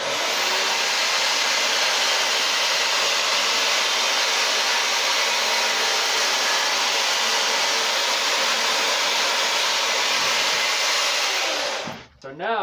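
A chainsaw roars at high, steady revs as it carves a face into wood, a loud continuous whine that holds for several seconds before cutting off abruptly near the end.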